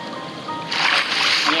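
A Minecraft character swimming through water, heard as soft splashing that swells into louder, continuous sloshing and splatter near the end.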